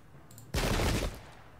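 Troops fire a sudden loud volley in Pike and Shot Campaigns, a dense burst of gunfire cracks lasting about half a second before tailing off into a low rumble, with no talking.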